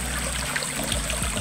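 Clean water from pipes coming down from the hills above Barangay Pansol runs in a steady, close trickling stream with a constant wash of flow and no voices.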